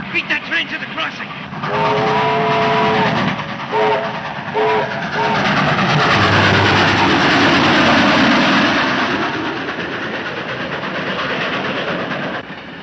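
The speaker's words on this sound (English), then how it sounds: "you'll tell him after this train gets by." A passing train sounds a couple of short whistle blasts, then a loud, sustained rumble and rattle of cars rolls by close up before gradually fading, with brief voices near the start.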